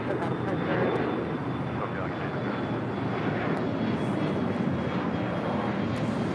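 An American Airlines A321T Transcontinental jet arriving from JFK at LAX gives a steady, broad engine roar that holds loud and even throughout, with a thin high whine running across it and voices talking beneath.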